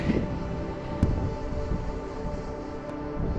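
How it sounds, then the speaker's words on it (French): Wind rushes steadily across the microphone on a road bike ride, a low, even roar with a couple of brief gusty bumps and no voices. "Il y a quand même beaucoup de vent."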